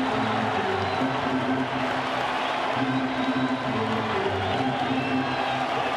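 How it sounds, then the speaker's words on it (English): A baseball stadium crowd cheers and claps steadily for the pitcher, a dense distant roar of many voices holding level throughout. "Crowd getting behind Dale Thayer. They want the punch out here."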